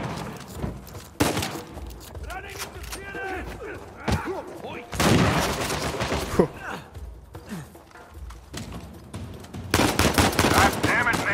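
Uncharted 4 gameplay with loud, close bursts of automatic gunfire and single shots coming in repeated volleys, mixed with game action sounds and occasional voices.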